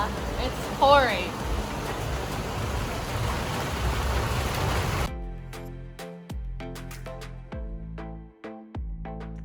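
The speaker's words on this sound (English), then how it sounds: "The one time you forget your umbrella, it's pouring." Heavy pouring rain in Antigua, Guatemala, a steady dense wash for about five seconds with a voice briefly over it, then cutting to a quieter scene with scattered clicks and taps.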